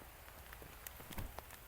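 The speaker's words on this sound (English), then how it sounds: "The rain is coming down a lot harder now." Heavy rain pours on an outdoor disc golf course, a steady dense hiss with scattered close drops pattering on nearby surfaces, fairly quiet overall with no speech.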